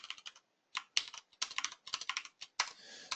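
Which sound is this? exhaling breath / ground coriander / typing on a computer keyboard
typing on a computer keyboard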